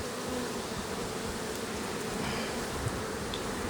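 A dense, steady buzz of many honeybees at an opened hive fills the air, close and continuous, with no voices.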